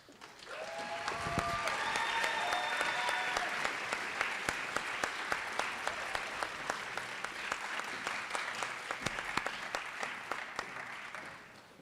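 At a high school senior awards ceremony, the audience bursts into sustained applause that builds quickly, stays full and even, then thins slightly near the end. Faint tones sound at the very start.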